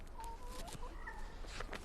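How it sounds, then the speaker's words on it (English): A chicken clucks in a short run of soft, close calls inside a reality-show house, over steady room noise with no talk. "Hello, chicken. You peck me, I kill you."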